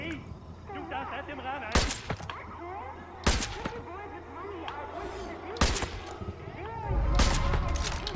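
Sharp gunshots ring out in the video game Far Cry 5, four loud isolated cracks spread over several seconds amid busy game effects and ambience, with a voice talking through much of it.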